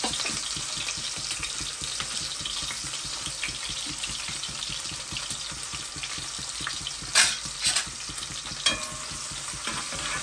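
Onions frying and being stirred in a pan for yellow rice, a steady close sizzle throughout with a few sharper scraping clicks of the spoon near the end.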